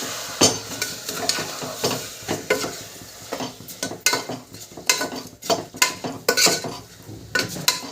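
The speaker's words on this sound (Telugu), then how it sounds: "మనం ముందుగా నానబెట్టుకున్న ఈ బియ్యాన్ని మనం ఈ కుక్కర్లో వేసుకుందాం. వేసుకుని మరలా ఒకసారి కలుపుదాం." Soaked rice is stirred in a pressure cooker, a steady run of scraping, clinking strokes of a spoon against the metal pot, close and fairly loud with no talking.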